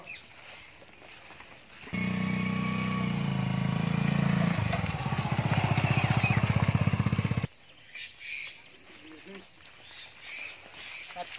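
A motorcycle engine starts up close by and runs with a steady, loud rumble, then settles into a rapid, pulsing idle before cutting off abruptly. Faint background noise continues afterward.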